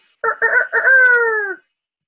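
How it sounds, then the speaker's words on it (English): A rooster crows once: a few choppy opening notes, then a long, loud, slightly falling call that cuts off cleanly, with no other sounds around it. "Can you crow like a rooster?"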